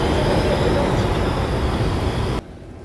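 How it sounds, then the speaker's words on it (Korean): Seoul subway Line 1 train at Yongsan station gives a loud, steady rumble and roar that cuts off abruptly near the end, leaving quieter background. "이곳은 지하철 1호선 용산역인데요. 오늘은 ITX 청춘열차 춘천행을 타기 위해 용산역에서 내립니다."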